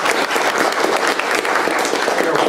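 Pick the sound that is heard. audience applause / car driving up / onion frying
audience applause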